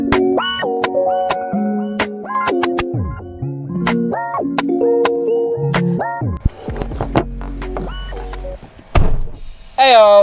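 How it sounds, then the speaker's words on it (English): Music with plucked and sliding notes plays for most of the stretch, then near the end a car boot slams shut with a couple of loud, heavy thuds close by. "Sorry for that loud noise, that was the boot shutting."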